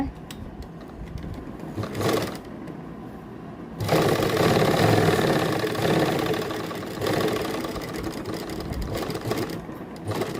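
Electric sewing machine stitching pleats into a ladies' kameez, with rapid mechanical whirring bursts that start and stop, the longest run in the second half, while a person talks nearby.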